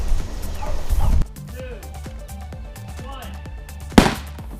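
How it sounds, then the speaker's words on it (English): A loud rushing burst fills the first second and cuts off sharply, murmuring voices continue beneath, then a sharp bang cracks out near the end as an explosion bursts through oobleck on a table. "You can see the force of that explosion transfer right into the table"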